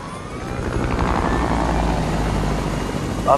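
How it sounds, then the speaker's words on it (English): A helicopter in the Fortnite video game whirs with a loud, steady rotor drone that builds slightly as it comes closer, alone without talk. "Are we taking the chopper?"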